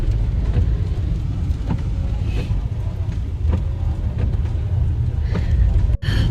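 Steady road traffic in Sundarnagar, with cars passing in a continuous loud rumble that sounds wet, like rain on the road, and a sharp brief dropout near the end.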